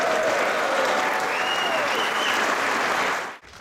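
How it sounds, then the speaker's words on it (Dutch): Thunderous applause from a large audience greeting a Tilburg city alderman, a dense, loud, sustained wash of clapping that cuts off abruptly near the end. "Daverend applaus."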